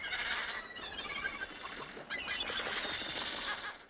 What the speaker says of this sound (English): Wild birds by the thousands.